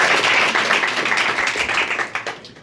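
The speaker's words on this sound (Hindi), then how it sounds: "ताली बजाइए।" Audience applause at a school ceremony honouring coaching-class students for tenth-grade exam results, a dense sustained clapping that fades toward the end.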